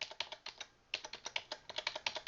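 Computer keyboard keys, the up and down arrows, are tapped in a rapid run of close, crisp clicks with a brief pause near the start.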